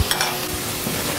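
Tomato paste sizzles and frys in a pan while being stirred, a steady close crackle with scraping strokes throughout.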